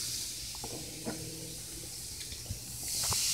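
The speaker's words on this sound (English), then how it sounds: "When is this fizzing gonna stop?" A homemade Thanksgiving volcano fizzes with a steady soft hiss, with faint crackles and small pops scattered through it, and the hiss swells louder toward the end.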